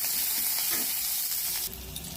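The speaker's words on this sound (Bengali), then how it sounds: "কাঁচা লঙ্কা আর পেঁয়াজকে কুচি কুচি করে রেখেছি, এটা দিয়ে দেব। দিয়ে এটা ভালো করে নাড়তে থাকবো।" Chopped green chilli and onion sizzle in a hot pan while being stirred, with sharp frying hiss and a scrape of the utensil partway through, close and fairly loud with no talk.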